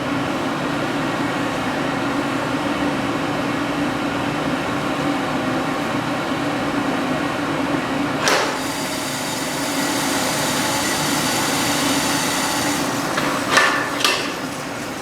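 Coffee beans pour into a running Probat P05 drum roaster, an even mechanical hum and whir with brief rattling bursts of beans near the end.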